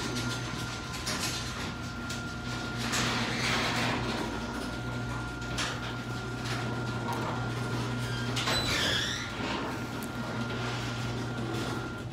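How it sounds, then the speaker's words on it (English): A new Lowe's garage door opener runs the door up, a continuous mechanical hum with rattling chain noise and occasional squeaks from the door, steady and fairly loud throughout. "Besides the access of chain noise and the door being a little squeaky, it's a very quiet operator"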